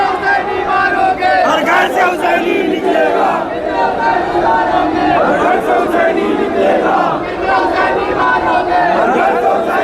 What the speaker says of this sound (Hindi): देखिए नारे क्या लग रहे हैं, तुम कितने हुसैनी मारोगे, हर घर से हुसैनी निकलेगा